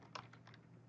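A few crisp keystrokes tapped on a computer keyboard while writing Excel VBA code, close and fairly quiet, with a sharper cluster of clicks near the start followed by lighter, spaced taps.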